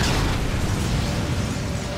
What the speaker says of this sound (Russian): И надо было обязательно дождаться взрыва